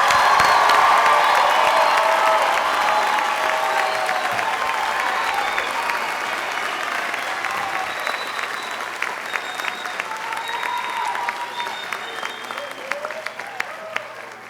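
Crowd at a 2019 high school graduation ceremony for St. Clair Shores Lakeview High School applauding the graduating class, loud sustained clapping with scattered cheers and whoops that slowly eases over about fourteen seconds.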